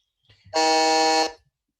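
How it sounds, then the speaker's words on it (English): A quiz team's buzzer at a grand final gives one loud, steady electronic tone that holds for about three-quarters of a second and then cuts off, with faint murmuring just before it. "Agrikids, let's have a look at your buzzer."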